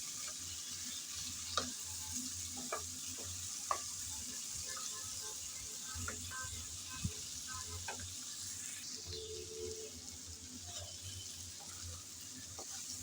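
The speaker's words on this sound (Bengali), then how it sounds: "টমেটোটা দিয়ে আবারও একটু নেড়ে চেড়ে মিশিয়ে নেব" Taro stolons and tomato frying in a pan with little oil, a steady soft sizzle under occasional scraping stirs and light clinks of the spatula, close and quiet throughout.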